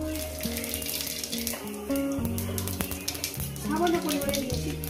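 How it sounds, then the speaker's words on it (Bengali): Cumin seeds sizzle in hot oil on a home stove, a steady frying hiss beneath background music and a talking voice. "তেল গরম হয়ে গেছে, সামান্য পরিমাণে একটু জিরে দেবো"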